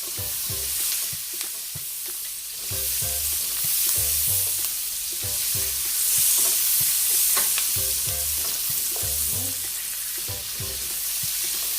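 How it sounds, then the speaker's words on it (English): White onion and carrots sizzle in a hot pan for a Jamaican steamed fish dish, a steady close frying hiss broken by repeated stirring scrapes and clacks of a utensil. "I'm just going in with my white onion, as well as my carrots to that."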